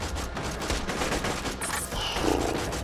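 Enemy gunfire in the Borderlands 2 video game, a dense, continuous barrage of rapid shots with roaring creature noises underneath, loud and close throughout.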